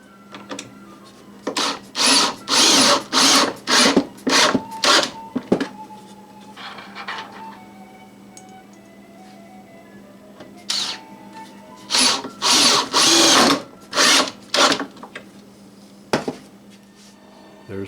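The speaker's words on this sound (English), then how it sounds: "So we'll get some deck screws and get this thing put together." A power drill drives deck screws into a wooden frame in two close, loud bursts of repeated short whirring pulses, each run of several quick driving spins followed by quieter pauses, with no talk.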